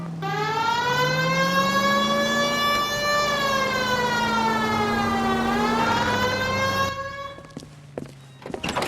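A loud, steady wailing police car siren in the video game L.A. Noire sweeps slowly up and down, then cuts off, leaving brief thumps and background noise.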